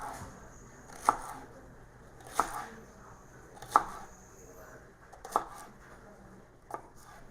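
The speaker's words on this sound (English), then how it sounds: "just cut all your jalapenos into rings" A sharp knife slicing jalapeños into rings on a cutting board, five or six crisp separate chops about a second apart, close and clear against a quiet room.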